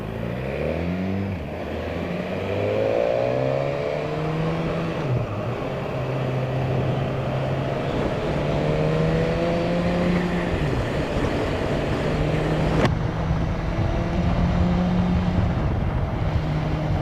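BMW S1000R motorcycle engine on a spring commute, a steady droning hum with slowly rising and falling pitch as the rider cruises, alongside constant wind rush.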